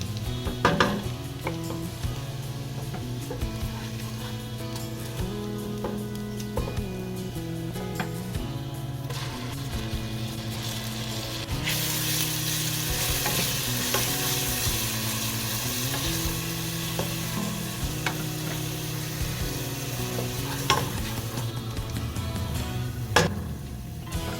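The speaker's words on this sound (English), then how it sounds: "Lightly toast the garlic" Garlic toasts in oil in a one-pot kadai for spinach and paneer curry, giving a continuous close sizzle with occasional stirring and light utensil clinks against the pot, and nobody talking.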